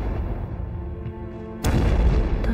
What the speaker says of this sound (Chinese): 外面的炮声